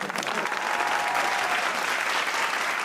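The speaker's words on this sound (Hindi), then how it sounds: "हाँ, ताली बजाओ मेरे।" A hall audience at a Hindi poetry recital claps steadily, a dense continuous burst of applause filling the whole moment.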